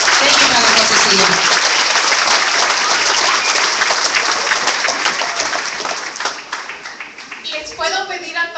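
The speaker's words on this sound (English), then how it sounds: "Let's give him a big hand of applause." A crowd at a rally against an immigrant detention prison in Joliet, Illinois, breaks into loud, sustained applause that slowly thins out, with voices rising through it near the end.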